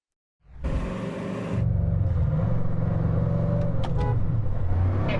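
Bugatti Chiron hypercar launching off the line, the engine bursting into a loud, rising roar that steadies into a sustained heavy rumble, close by, with no talk.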